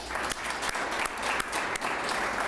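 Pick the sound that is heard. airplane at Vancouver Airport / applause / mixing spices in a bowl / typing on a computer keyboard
applause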